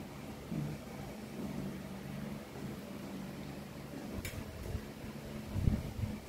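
An electric fan runs in a quiet room where Oreo the Persian cat sleeps, giving off a steady low hum with a faint tonal drone and one brief sharp click partway through.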